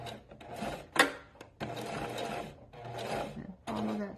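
A sewing machine stitches fabric for a beginner's bunny toy, starting at the tip of the nose with a short back stitch. It runs close in brief bursts of whirring with short pauses, and nobody talks.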